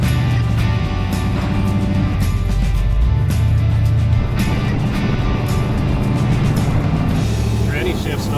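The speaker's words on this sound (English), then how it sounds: "Definitely got some sheet metal rattles." A 1946 Chevy pickup with a supercharged engine on its first drive, loud, constant engine and road noise inside the cab with rattling loose sheet metal mixed in, while people talk over it.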